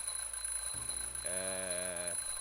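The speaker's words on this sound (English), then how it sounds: "I'm, just testing the smoke detector." In the video game The Journey Down, a smoke detector under test gives a single electronic alarm tone lasting under a second, rising over a quiet background hum.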